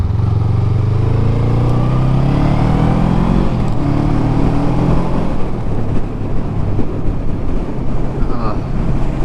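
A 2024 Honda Rebel 500 motorcycle engine hums under way, its pitch climbing and dropping with several gear shifts, all under heavy wind buffeting on the microphone.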